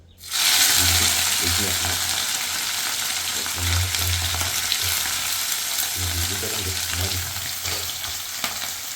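Dried fish frying in hot oil in a kadai, a loud constant close sizzle that starts abruptly, with rhythmic scraping of a spatula stirring it at intervals.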